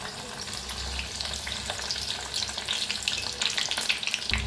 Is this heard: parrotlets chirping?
no